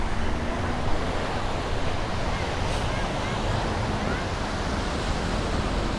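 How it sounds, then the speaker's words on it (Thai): Sea waves and wind on Ao Nang beach in Krabi, Thailand, a loud, steady rushing wash of surf mixed with wind buffeting the microphone, continuous throughout. "ด้านหลังก็เป็นทะเลนะ ก็มานั่งเล่นรับลม"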